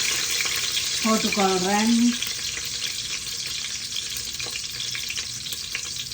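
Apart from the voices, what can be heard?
garlic frying in ghee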